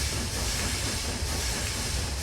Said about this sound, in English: we do still have to work the loco a little bit to bring it up to speed